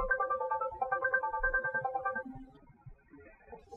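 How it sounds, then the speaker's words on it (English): A sample ringtone plays from a Cisco 8861 desk phone, a repeating pattern of bright electronic tones for about two seconds before it fades into quieter, scattered notes. "Scroll through the list of ringtones and press play to hear a sample."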